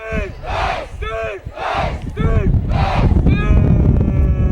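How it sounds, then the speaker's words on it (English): Crowd cheering and shouting at a high school football game, a loud, sustained roar with rising whoops and chants that swells and grows fuller toward the end. "The crowd's getting a little louder."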